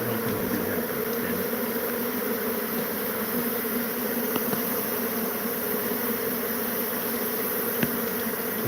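Killer bees swarm out of holes on a ranch, a steady dense buzzing drone that holds level and close throughout, with occasional faint clicks and no speech.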